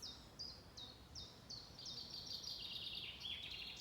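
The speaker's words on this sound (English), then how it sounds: "Now there's a bird singing." Outdoors, a bird sings a series of short, high, repeated phrases, first spaced and then running together into a faster trill, faint and at a distance over a soft hiss.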